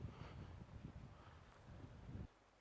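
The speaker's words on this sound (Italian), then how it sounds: "solo il rumore del vento" Wind blows through an empty city on a curfew night, a soft low rumbling gust that swells and falls before cutting out, faint and distant with no voices.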